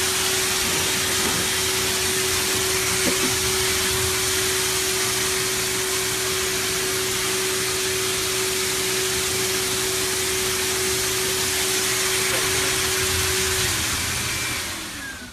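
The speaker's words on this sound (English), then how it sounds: "instead of getting right down there where that nozzle is blowing the product back out, it's actually drying the product to the hair" A blower nozzle roars steadily over a hide, drying product into the hair, a loud, unbroken whooshing drone with a fixed tone that holds for the whole stretch before easing off at the end.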